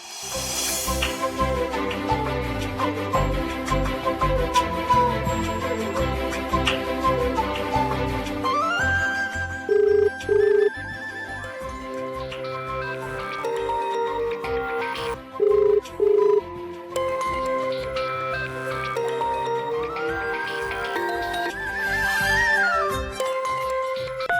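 Two short bursts of a telephone ringback tone from an outgoing call, each a pair of steady beeps, sound over dense background music in a Telugu TV serial scene.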